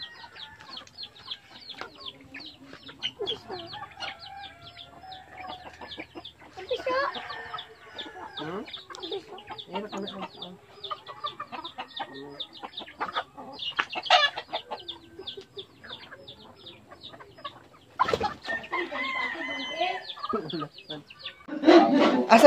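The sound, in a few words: chickens clucking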